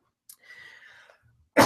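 A single loud, close cough bursts out abruptly at the end, after a brief faint murmur of background noise.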